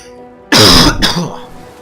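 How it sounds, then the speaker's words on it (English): A single loud, close cough burst, harsh and throaty like clearing the throat, during a League of Legends gaming session, with quiet background before and after. "Sorry about my coughing."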